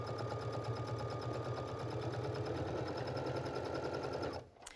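A Baby Lock sewing machine fitted with a clear roller foot stitches steadily in a fast, even whirr for several seconds up close, then stops abruptly near the end.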